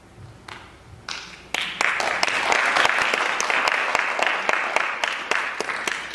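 Applause at an award ceremony swells after a couple of isolated claps, then a dense, sustained crowd clap with sharp individual hand claps standing out near the microphone.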